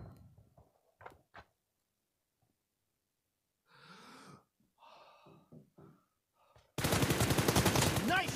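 After quiet stretches of breathing and faint sounds, a loud burst of rapid gunfire erupts up close in an arena-style shooter video game and keeps going to the end.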